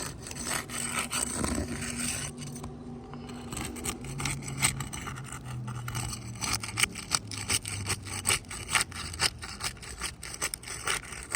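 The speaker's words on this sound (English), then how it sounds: "So I'm gonna use a spatula to lift out the shingles." A spatula scrapes and rubs shingles off a surface in a steady run of gritty, rasping strokes, close and fairly loud, with no talking.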